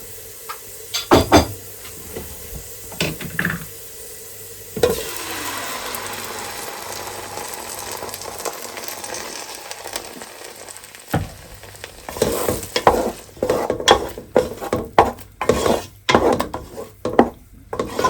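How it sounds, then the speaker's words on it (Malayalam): A ground vegetable and chicken mix hits a pan of lightly browned garlic for a spinach soup, sizzling loudly, followed by repeated scraping and stirring strokes of a spoon against the pan. "ഇത് നമ്മൾ ഗ്രൈൻഡ് ചെയ്ത് വെച്ച വെജിറ്റബിൾ ആൻഡ് ചിക്കൻ മിക്സ് ആണ് ഇപ്പം ചേർത്തേക്കുന്നത്."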